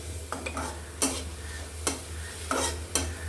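Vegetables for Maggi sautéing with salt in a pan that is covered between stirs: a quiet steady sizzle broken by five or six sharp scrapes and clacks of a spoon at uneven intervals.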